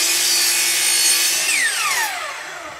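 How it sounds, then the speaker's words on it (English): A 12-inch Hitachi miter saw fitted with a zero clearance insert cuts through plywood, a loud steady high-pitched whine and cutting rasp that then winds down with a descending pitch, heard alone. "now when I cut plywood"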